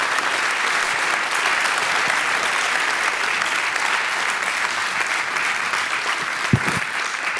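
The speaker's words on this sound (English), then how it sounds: "I think the applause speaks for itself." Audience at a financial industry summit, after a talk by Equity Bank's James Mwangi, applauds in steady sustained clapping from a large crowd, loud and continuous, with a single sharper clap near the end.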